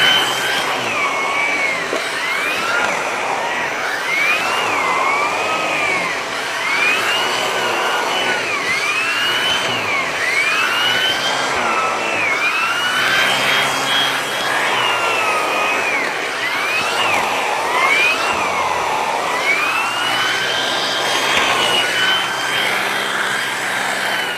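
A Eureka Floor Rover Pet vacuum cleaner runs on upholstery, its loud, continuous whining motor wavering in pitch as the tool sweeps back and forth.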